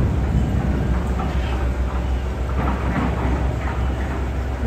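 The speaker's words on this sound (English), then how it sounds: "Hear those thunder." Thunder rumbles through a zoo's jaguar exhibit area ahead of a storm, a steady low roar filling the whole stretch with broadband wind-like noise and no clear distinct claps.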